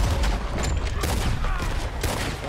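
A few heavy gunshots from Red Dead Redemption 2 ring out at about one-second intervals, loud and booming over a low rumbling game background.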